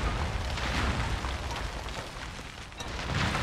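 Explosions in the video game Conan Exiles rumble as a low, booming roar with scattered pops, fairly faint and continuous with no talking over it.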